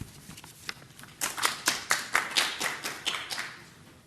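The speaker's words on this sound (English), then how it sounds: "give her a round of applause" Expo audience clapping for a speaker, a modest scattered round of applause from a small crowd that swells in the second half with distinct individual hand claps, fairly close.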